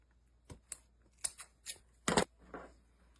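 Scissors snipping the end off a wrap on a budget fall decoration, a handful of short, crisp, close cuts spaced irregularly, with one louder double snip near the end.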